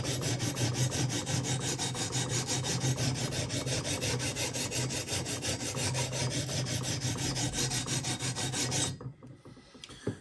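Guitar frets on a Japanese Strat are levelled with 320 grit sandpaper in a steady, loud, rhythmic rasping of quick back-and-forth strokes close up, stopping abruptly near the end.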